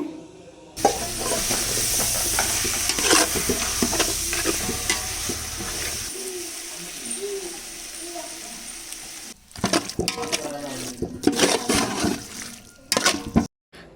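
Washed chicken pieces go into a biryani pot, then a loud, close sizzle of frying and the scrape of stirring follow, with brief gaps and clatter near the end.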